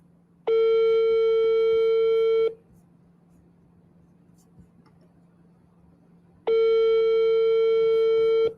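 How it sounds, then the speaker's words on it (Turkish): An outgoing phone call rings out: two long, steady ringback tones about four seconds apart, each lasting around two seconds, with a quiet hum between them. "Çalıyor şu anda. Ee, inşallah açar."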